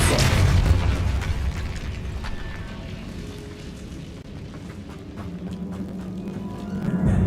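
A Repulsor spell blast in the Hogwarts Legacy video game, a loud booming burst at the start that decays into a long rumbling wash of low noise and faint debris.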